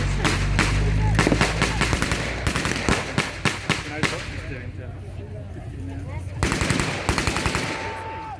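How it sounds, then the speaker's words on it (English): Bursts and single shots of blank gunfire from a British Sten gun at a WW2 reenactment battle in an open park, loud and sharp with echoes, amid crowd noise and talk. "here comes the British Sten gun"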